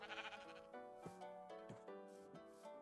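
A Minecraft sheep gives a run of quick, wavering bleats, several in succession, clear and alone with no talk.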